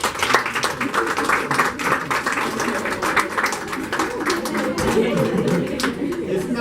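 An audience at the Miss Nigeria USA 2015 press conference breaks into applause for a speaker, a dense continuous patter of clapping hands mixed with crowd chatter throughout.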